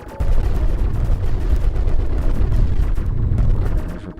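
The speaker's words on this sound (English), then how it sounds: "Another bomb." A bomb goes off in the arcade shooter Beat Hazard, a loud, dense burst of booming, crackling blasts that rumbles on for several seconds before tapering off at the end.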